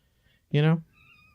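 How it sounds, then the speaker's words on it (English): A house cat lets out a single clear, drawn-out meow close to the microphone, loud against an otherwise quiet indoor background. "Sorry, that was my cat."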